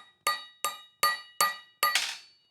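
A metal puller socket clinks during a Porsche 356 engine rebuild with a SCAT crankshaft: five sharp, bright metallic taps, evenly spaced and close, the last ringing slightly longer.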